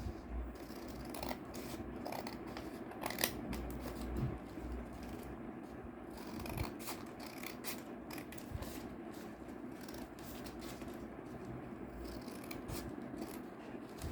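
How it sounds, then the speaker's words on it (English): Scissors cut out the folded parts of paper strips for a yarn-weaving craft. Close, quiet snipping and rustling continue in an irregular rhythm with no voice. "Similarly, you will cut out all the folded parts without cutting the corners."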